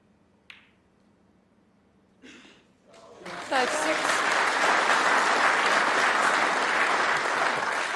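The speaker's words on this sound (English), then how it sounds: "Deserved applause." Snooker audience at a professional tournament breaking into sustained applause after a couple of quiet clicks and a brief voice, the clapping starting abruptly and continuing loud and steady to the end.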